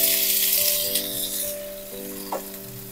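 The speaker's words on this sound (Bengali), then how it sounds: "এরপর এই তেলের মধ্যেই আমি কেটে রাখা টমেটোগুলো ভেজে নেব।" Chopped tomatoes frying in oil in a pan, giving a close, bright sizzle with soft crackle, fading a little toward the end, with a faint steady tonal hum beneath and no talking.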